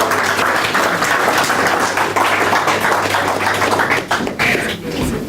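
Audience applause after a speech at an integrity and ethics dialogue, a steady roomful of clapping held at full strength for about five seconds, dipping briefly near the end.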